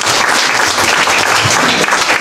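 Loud, dense applause fills a hackathon pitch event hall, sustained and steady from start to finish with no talking.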